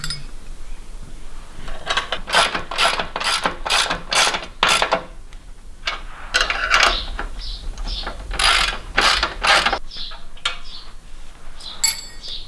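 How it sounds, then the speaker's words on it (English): A hand ratchet tightens bolts on the frame of a BlackHawk LowBoy III paramotor, giving close, loud bursts of rapid clicking strokes with short pauses between them. "we're just going to tighten these up all the way around"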